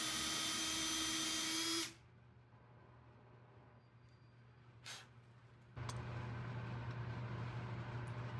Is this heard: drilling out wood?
yes